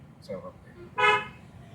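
A short car horn toot sounds once, brief and moderately close, after a few faint murmurs of a voice.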